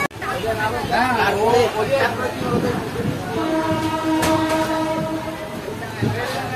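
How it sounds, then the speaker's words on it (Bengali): Onboard the 13018 Ganadevta Express running through heavy rain, a steady rumble of the moving train carries a long sustained horn blast midway, with a murmur of voices in the background. "ট্রেন এখন আজিমগঞ্জ সিটির দিকে যাচ্ছে"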